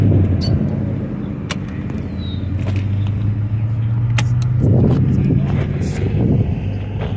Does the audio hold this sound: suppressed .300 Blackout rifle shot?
no